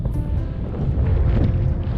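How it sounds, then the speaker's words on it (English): Heavy wind on a mountaintop in the Oregon wilderness buffets the microphone, producing a steady low rumbling roar with gusty flutter throughout. "It's windy up here, so I'm guessing the microphone's not doing so well."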